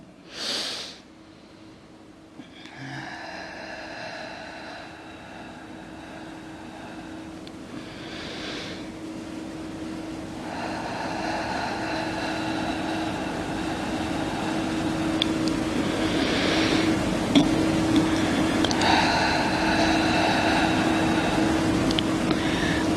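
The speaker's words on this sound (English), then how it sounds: "3 deep cleansing breaths in through the nose, out through the mouth, very gently and quiet, but very deep." Deep, slow breaths drawn in through the nose and let out through the mouth, long soft airy swells repeating several times against a faint steady hum, gentle and quiet.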